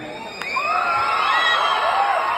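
A crowd at a film event cheers, with several shrill whistles rising and falling over a loud, continuous roar of voices.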